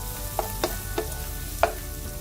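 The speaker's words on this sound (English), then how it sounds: "Just keep stirring it till the onions are translucent or light brown." Onions frying in a pan while being stirred, a low steady sizzle broken by a few short, distinct scrapes of the utensil across the pan, close and with no voices.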